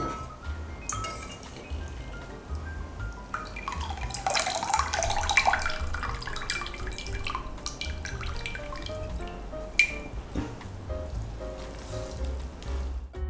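Soaked glass noodles drain in a home kitchen: a steady trickle of water runs off, with scattered drips and a brief clink.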